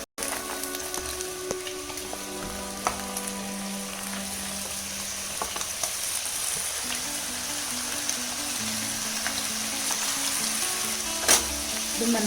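Capsicum and peas fry in a pan for a mixed vegetable curry, a loud, steady close sizzle with occasional clicks and light stirring scrapes that carries on without talk.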